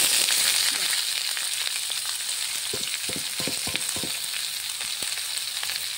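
Potatoes and onions frying in hot oil for a Bengali-style mocha (banana flower) dalna, with a steady loud sizzle and a series of spatula scrapes and stirring knocks in the middle, no talking.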